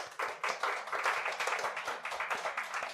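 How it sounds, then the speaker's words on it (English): An audience at a community show claps and applauds in a faint, steady patter of many hands, with no voices over it. "Please give a round of applause to the masters."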